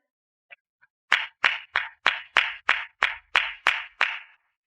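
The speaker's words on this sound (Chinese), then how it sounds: "让我们掌声有请江宁上台来分享她的优秀毕业论文" Applause at a graduation gathering welcomes a speaker to the stage: two faint taps, then about ten crisp, evenly spaced claps in a steady rhythm, close and clear with no voices.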